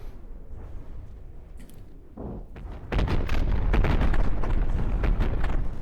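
Naval cannon shells fire and explode in the video game From the Depths: a quiet lead-in, then a dense run of loud booms and blasts piling up into a continuous rumbling barrage.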